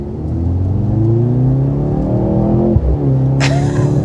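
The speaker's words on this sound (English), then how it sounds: "The exhaust note is very nice and deep." A 2023 Mercedes-AMG C43 with a four-cylinder engine gives a deep, loud exhaust note that rises steadily under acceleration, dips briefly at a shift, then pulls on.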